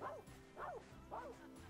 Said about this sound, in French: Le chat aboie, c'est la première fois que j'entends un chat aboyer